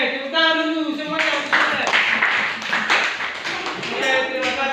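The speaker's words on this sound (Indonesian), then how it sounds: "Oke, tepuk tangan dulu semuanya" Audience clapping in a presentation setting, a dense patter of hand claps building after a spoken cue, with voices heard over the start and end of the applause.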